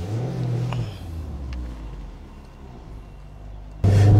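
A Mazda MX-5 manual sports car with its top closed pulls away onto the road. Its engine gives a steady low rumble that rises in revs and ends in a louder surge, with no talk.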